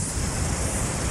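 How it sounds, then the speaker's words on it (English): Ocean waves break on a beach in Abel Tasman National Park, New Zealand, as a brief, steady wash of broadband surf noise with wind, with no voices. "and the waves are just beautiful"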